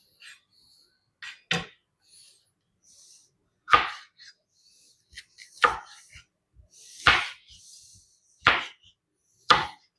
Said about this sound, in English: I'm going to cut up my onions and peppers